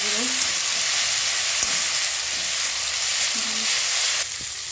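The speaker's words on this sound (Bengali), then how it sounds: "এখন বন্ধুরা আধাটি ভাজা হয়ে আসছে" Ginger sizzling in hot oil in a pan, fried with a pinch of salt before spices go in; a steady bright crackle runs the whole time with a few soft stirring knocks, no voices.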